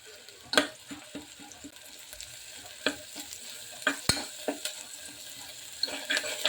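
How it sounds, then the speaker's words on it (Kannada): Raw chili paste frying in a pan for Mumbai-style pav bhaji, with a soft steady sizzle broken by sharp clinks and scrapes of a spoon stirring against the pan, close and fairly quiet with no talking. "ಈಗ ನಾನು ಹಸಿ ಪೇಸ್ಟ್ ಹಾಕ್ತೇನೆ ನೋಡ್ರಿ"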